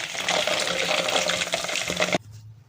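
Lahori fish fries in hot oil with a loud, dense bubbling sizzle, close by and steady for about two seconds, then cuts off abruptly to near silence.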